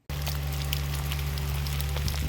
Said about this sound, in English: Raining now, alright.